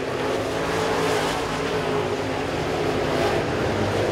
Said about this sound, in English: a full straightaway now on Joseph Joyner, the third place car, car number 10